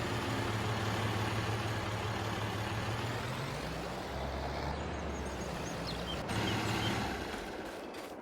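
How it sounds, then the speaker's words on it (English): A tractor engine in the Farming Simulator game runs steadily with a low, heavy rumble, holding a constant drone that shifts slightly in pitch as it drives, close and continuous without voices. "We're going to grab our other tractor and take it into town."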